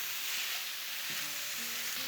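Ground beef and diced onion fry in a pan, giving a soft, even hiss of sizzling with a few faint scrapes and tonal clinks in the background, close but quiet and free of talk.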